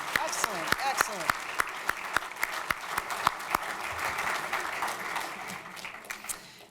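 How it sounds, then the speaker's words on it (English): Applause fills a hall of fame banquet crowd, steady dense clapping with sharp individual claps standing out, sustained and fairly loud before easing slightly toward the end. "All right, one last round of applause, ladies and gentlemen."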